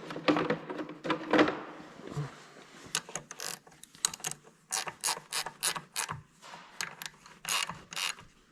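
A 1/2 inch fitting on the oil filter port of a John Deere 4840 tractor is turned with a wrench, making quiet, repeated ratcheting clicks in short bursts with small metallic knocks between them.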